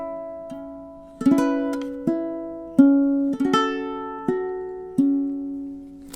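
Plucked ukulele notes forming a stanza of a song, a handful of clear picked tones and short chord strums ringing and decaying one after another, close and alone.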